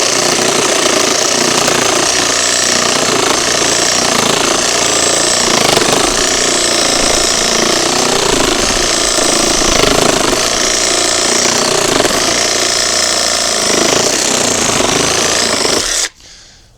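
A cordless Ozito reciprocating saw fitted with a Bosch blade rasps through a piece of timber in a loud, continuous, rapidly pulsing buzz for about sixteen seconds, then cuts off abruptly as the cut ends.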